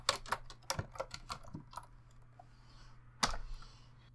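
Quick bursts of typing on a computer keyboard in short clattering runs, close and fairly quiet, pausing for about a second and a half before one final sharp keystroke cluster.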